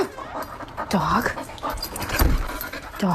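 A dog pants rapidly and whimpers in short rising and falling yips, close and fairly loud, with voice-like sounds mixed in.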